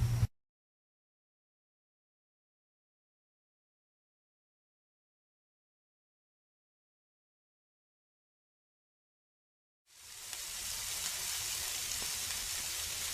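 Filet mignon steaks sizzle on a grill, a steady broadband hiss and crackle that starts abruptly after a long silence and continues evenly to the end, with no talking.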